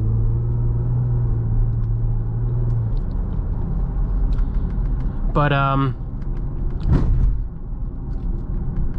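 A 2015 Jeep Cherokee Limited V6 drives along a road, a steady low engine and road rumble throughout with a tonal hum early on, while a person speaks briefly over it.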